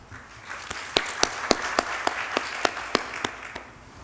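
Audience at an investor-relations seminar on ESG clapping to welcome a speaker, sparse distinct claps landing in a fairly regular rhythm over a soft room background, moderately close and not very loud.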